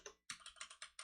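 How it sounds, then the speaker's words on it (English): Rapid keystrokes on a computer keyboard, about eight crisp clicks in quick uneven succession after a short pause, close and clear with no voices. "I just got tired of typing this."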